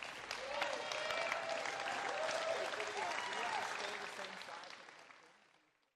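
A crowd on the championship pickleball court at MLP Newport Beach rises in a standing ovation after a rally, with loud, dense applause and cheering sustained for several seconds before fading out.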